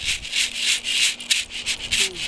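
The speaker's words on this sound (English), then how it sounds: "Be careful, don't drop those beans. And we shake." Coffee beans are shaken back and forth in a cast iron skillet while roasting, producing a rhythmic, close rattling swish in quick repeated bursts.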